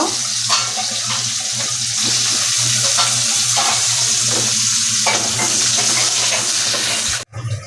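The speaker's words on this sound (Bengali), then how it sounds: "আমি এখন করলাটা ভেজে নেব।" Sliced bitter gourd frying in hot oil in a pan, a loud continuous sizzle with scraping stirs throughout, close up, ending with a sudden clatter.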